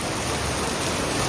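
Rain falling in the open during a passing shower, a dense, steady hiss of drops that fills the short stretch at an even loudness with no talk.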